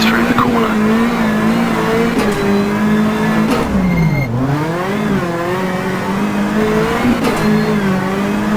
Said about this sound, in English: accelerate to about 60 in second gear